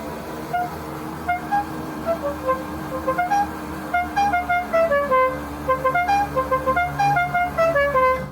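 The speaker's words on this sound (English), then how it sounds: "let's try that horn motor now" A Chevrolet Biscayne's car horn being tested after repair, sounding as a series of short, repeated honks with shifting tones over a steady background hum, growing busier toward the end.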